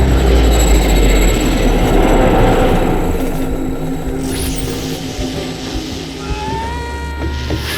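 A train speeds past in a Spider-Man film, a loud, continuous rumble with rattling wheels and rising metallic squeals toward the end, no voices.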